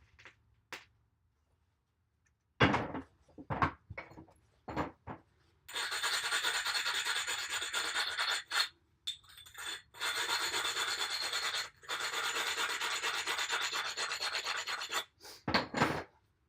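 A blade for a caveman-style stone knife is ground on an abrasive surface. A few scattered scrapes come first, then long, steady, close rasping strokes broken by short pauses.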